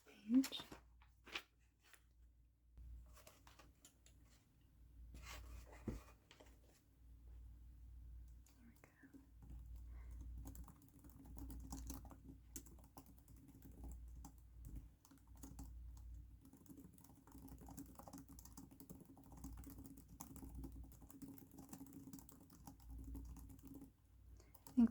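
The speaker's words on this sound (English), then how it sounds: "I think there is something very satisfying to typing. I love typing." Soft computer keyboard typing in a quiet room, steady clicking keystrokes running throughout under a faint soft-spoken voice.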